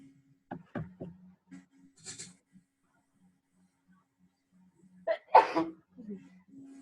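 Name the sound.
sneeze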